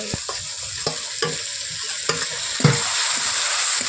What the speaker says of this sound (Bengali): পেঁয়াজ দিয়ে দিলাম আদাও দিয়ে দিলাম